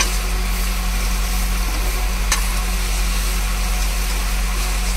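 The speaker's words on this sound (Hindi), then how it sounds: "इसको मिक्स करेंगे अब प्याज में।" Chicken is stirred into onions frying in a pan inside a truck cab, a steady close sizzle over a constant low engine-like hum, with one sharp click.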